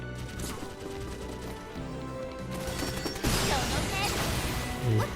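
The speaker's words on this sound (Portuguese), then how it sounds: "Vamos tentar com a explosão de plasma." Plasma explosion weapon firing in the video game Sword Art Online Fatal Bullet, a heavy burst with a crackling, sizzling tail, followed by another thump near the end, over steady game music.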